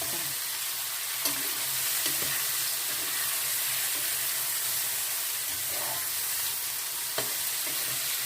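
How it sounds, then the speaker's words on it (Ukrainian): Eggplant and peppers fry in a large pan, giving a steady, dense sizzle that runs unbroken throughout with a few faint clicks and no talking. "Обсмажуємо теж до прозорості перчику, він такий стане чуть-чуть, наче підсмажений і прозорий"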